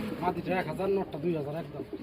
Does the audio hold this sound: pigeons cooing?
yes